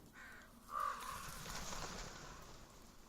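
A crow in the video game Pillars of the Earth gives a short caw, then a longer harsh call over a quiet background hiss.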